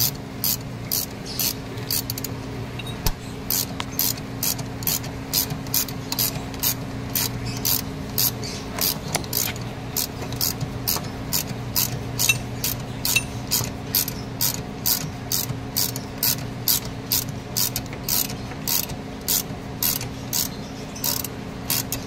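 Steady, rapid ratcheting clicks as a long bolt with a washer is tightened to press a knuckle bushing into a Toyota Corolla, repeating rhythmically and fairly close, with a low mechanical hum underneath.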